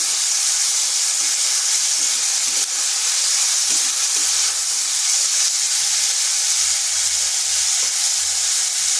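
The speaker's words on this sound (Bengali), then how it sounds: "এটা খুব বেশিক্ষণ ভাজবো না।" Green beans (barbati) fry in a pan with a loud, continuous sizzling hiss from start to finish, accompanied by faint low stirring bumps underneath.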